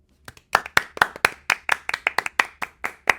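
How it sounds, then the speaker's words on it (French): Clapping from a small group: about fifteen sharp, distinct claps in a quick, fairly even rhythm, close and clear against a quiet background with no talk. "On s'applaudit."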